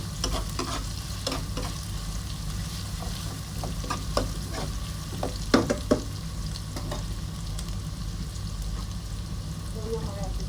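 Eggplant frying in a pan, a soft steady sizzle running under the whole stretch, punctuated by repeated light clicks and scrapes from stirring, with a voice talking quietly at times.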